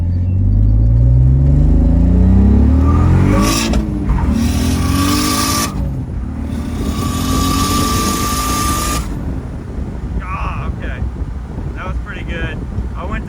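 Turbocharged BMW 325ci E46 with an S52 engine on about 13 psi of boost pulls hard under acceleration: loud, rising engine roar with gear-change dips, heavy wind buffeting and someone talking over it.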